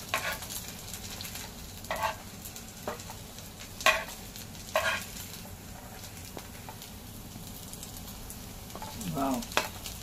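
Crispy sabudana vada deep-frying in oil, with a soft steady bubbling sizzle broken by a few louder scraping or stirring sounds, close up, no one speaking.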